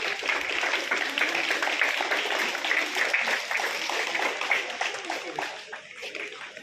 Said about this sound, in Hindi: तालियां बच्चों।